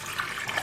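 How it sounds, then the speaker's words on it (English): Kombucha pours into a glass in a brief, soft liquid splash and trickle, close and quiet, lasting under a second. "Pour some kombucha in here."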